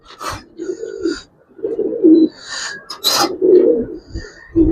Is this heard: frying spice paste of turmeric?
no